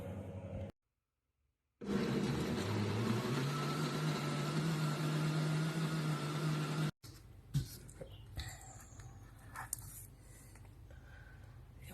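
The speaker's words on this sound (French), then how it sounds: "Je vais donc mélanger le tout et passer au mixeur." A kitchen blender purees tomatoes, basil, olive oil, salt and pepper, a loud motor whir running about five seconds with its pitch rising slightly, then cutting off into quieter clinks and handling noises.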